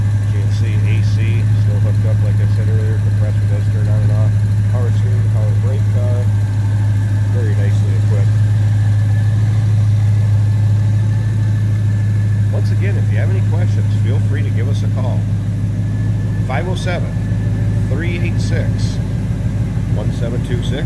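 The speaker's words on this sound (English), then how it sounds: "Nice little rumble out of that 396." 1969 Chevrolet Chevelle SS 396 V8 idling with air conditioning on, a steady low, loud rumble throughout as someone talks over it.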